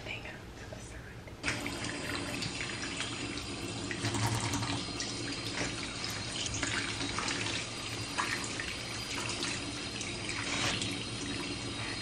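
Tap water runs steadily into a sink while makeup brushes are washed, a continuous close splashing flow that starts after a brief quieter moment, with faint speech now and then beneath it.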